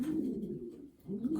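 A racing pigeon coos nearby in two low throaty phrases separated by a short pause, clear and close with no talking.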